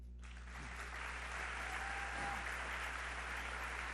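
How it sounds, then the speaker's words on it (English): An audience at an academic conference business meeting claps for the organising team, a fairly faint, steady spread of applause behind a low constant hum. "I think they deserve an incredible applause as well"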